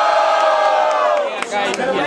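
A loud crowd cheers and yells together, a sustained roar of voices with whoops rising above it, steady for the whole stretch.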